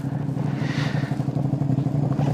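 A motorcycle idling nearby with a steady, throbbing low engine rumble and a brief faint rise in the middle.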